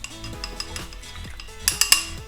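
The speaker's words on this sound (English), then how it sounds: "And then mix it all around." A utensil stirs ponzu sauce made with sweetened rice wine in a bowl, giving soft scraping swirls followed by a few sharp clinks against the dish near the end, close and fairly quiet.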